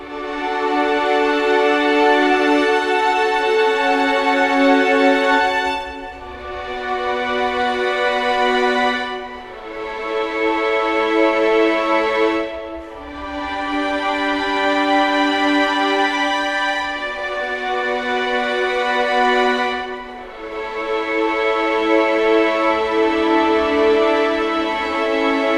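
Soft, breathy orchestral strings from a Spitfire Symphony Orchestra sample library, playing long sustained flautando chords with low vibrato that swell and change every few seconds, gentle and continuous.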